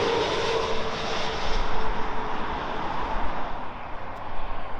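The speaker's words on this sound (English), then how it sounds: "Sky Express A320neo from Athens." A Sky Express Airbus A320neo airliner roars steadily with broadband engine and jet noise, loud and continuous for the whole stretch, a faint whine running underneath and no voices.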